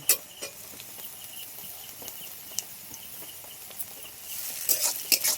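Chopped tomato goes into frying onions, a soft low sizzle under scattered spoon scrapes and stirring clicks, livening toward the end.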